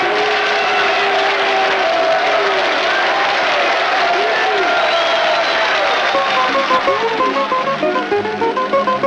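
Audience applauds and cheers loudly over music in a Soviet musical film, with clapping growing into sharp rhythmic claps toward the end.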